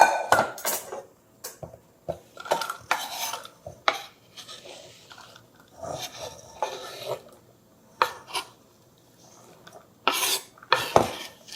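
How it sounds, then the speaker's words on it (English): A cook grabs a pot and moves vegetables into it, with a series of close clattering pot, utensil and rubbing noises in bursts separated by short quiet gaps. "then we're going to move this into a pot and add a little bit of oil, salt, pepper"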